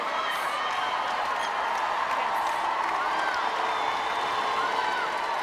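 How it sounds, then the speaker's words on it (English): A large arena crowd at a 2011 World Netball Championships semi-final between England and New Zealand roars and cheers after a goal, a dense, steady wall of noise with clapping and whoops sustained throughout. "And a huge roar from the crowd for that goal"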